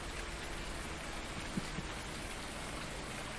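Steady rain falls in Farming Simulator 19, a dense, even hiss with a couple of faint soft taps, continuous and alone with no voices.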